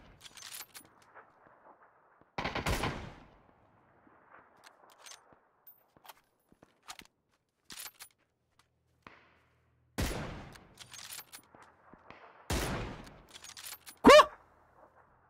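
Gunfire in the battle royale game PUBG: a few separate sharp bursts of shots spaced across a quiet stretch, with scattered faint clicks and small noises between them.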